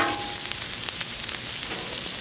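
Butter hitting bacon grease on a hot Blackstone griddle, a loud, dense, unbroken sizzle close up, with no voices.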